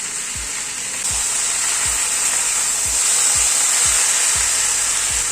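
Fried lentil dumplings and pumpkin leaves stirred in a pan, a steady bright sizzle under repeated soft thuds of the spatula at an uneven, roughly half-second rhythm.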